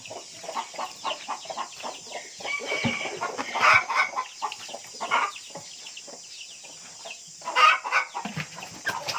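Brooding hens sit on eggs on a farm in Thailand, giving soft, irregular clucks and low chatter. Two louder, sharper squawks rise above the steady farmyard hum, with no talking.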